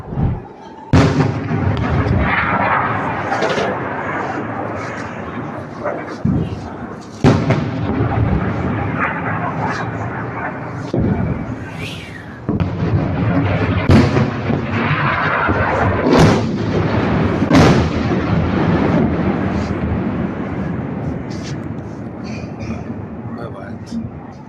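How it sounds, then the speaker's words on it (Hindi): Repeated heavy booms and blasts from missile strikes hitting Nahariya, Israel, rumbling loud and close over roughly twenty seconds, with people talking excitedly throughout. "אתם לא יודעים איזה פיצוצים פה בנהריה"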